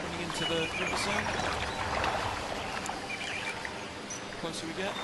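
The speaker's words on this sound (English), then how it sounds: "Coming into the river sound." River water ambience in an Unreal Development Kit level, a steady broadband rush and trickle of flowing water with faint bird-like chirps, heard close and continuous while someone talks over it.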